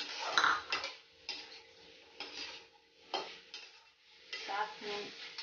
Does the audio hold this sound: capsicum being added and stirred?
yes